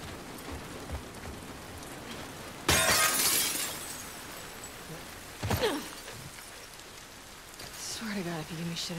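Glass shattering in The Last of Us Part II, a sudden bright crash of breaking panes followed by a scatter of falling shards, then a second smaller crack, over quiet rain-like ambience with a voice nearby.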